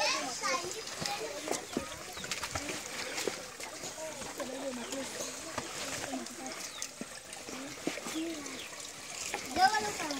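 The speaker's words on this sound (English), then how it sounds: "the water is a small spring here from the rocks, from under the rocks, and we have to see how the children come here to fetch the water." Children play and chatter close by at a small spring flowing from under rocks, with light splashing and trickling water under their voices and an adult speaking throughout.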